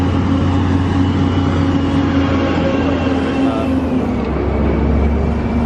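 Steady, loud traffic roars past at a busy road intersection beside a petrol station, cars and heavier vehicles blending into a continuous rumbling drone with no break.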